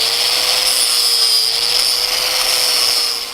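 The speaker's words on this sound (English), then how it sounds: "I'm actually putting a little bevel on this 1/2 inch stock" A power tool grinds a bevel onto half-inch steel bar stock for a welded rooftop railing, a loud steady high whine held throughout without break.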